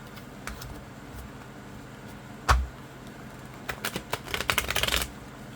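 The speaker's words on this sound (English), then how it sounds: "Give these a really good shuffle up." Tarot cards being shuffled by hand in a quiet room: a single soft thump, then a burst of rapid, riffling card flutters toward the end, fairly close.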